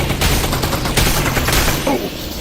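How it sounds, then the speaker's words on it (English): Automated security turrets fire rapid bursts of gunfire in Half-Life: Alyx. The shots come loud and close in overlapping volleys, then fade toward the end. "I heard gunfire."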